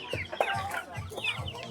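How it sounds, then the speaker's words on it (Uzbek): Chicks and chickens cluck and peep at a busy poultry market, with several short, close calls in quick succession rising over a low background murmur. "Mana jo'jachalar."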